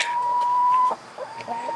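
A single chicken gives a drawn-out tonal call followed by a few softer clucks, close and clear with no voices.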